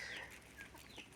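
Backyard rooster and hens clucking close by, a short burst of overlapping calls with bright chirpy notes over steady farmyard background.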